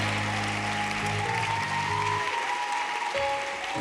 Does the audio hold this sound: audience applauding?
yes